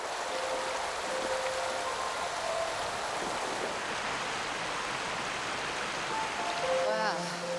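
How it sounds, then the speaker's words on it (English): A waterfall on open moorland rushes as a steady broadband roar, moderately distant and constant throughout, with a faint whistle-like tone near the end. "Oh, there's a waterfall."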